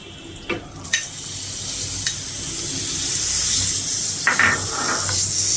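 Marinated chicken stir-frying in two teaspoons of hot butter in a frying pan, giving a continuous close sizzle and hiss with a few scraping stirs early on.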